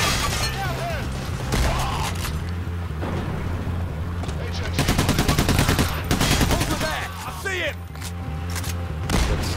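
Gunfire fills a shootout in the video game PAYDAY: The Heist, with rapid automatic bursts and single shots among game noise while someone talks over it.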